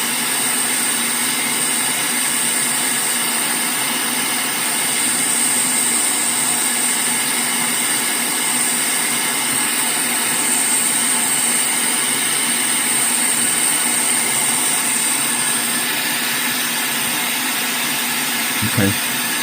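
A SUGON 8650 hot air station blows steadily at 350 degrees with airflow set to 120, a loud, continuous broadband hiss with a high whine running almost unbroken through the clip, ending with a brief knock.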